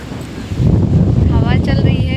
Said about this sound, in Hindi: हवा चल रही है बहुत अच्छी